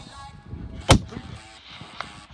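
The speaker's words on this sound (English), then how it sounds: "So I think John, he's gonna have a shot" A single loud rifle shot cracks out at wallabies in the Australian bush, a sharp blast with a short echoing tail, followed by a fainter distant pop and quiet outdoor background.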